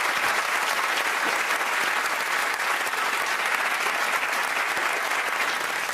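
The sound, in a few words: studio audience applause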